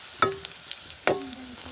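Curry leaves are dropped into hot tempering oil for a drumstick curry, giving two sharp bursts of crackling sizzle followed by a softer frying hiss between them.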